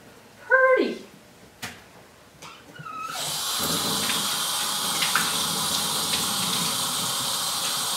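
Running water from a tap hisses steadily over a wet-felted wool egg as soap is rinsed out, after a few brief bumps and a short voiced sound, continuing as a broad, even wash.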